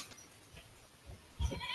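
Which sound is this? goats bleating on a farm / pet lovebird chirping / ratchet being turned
goats bleating on a farm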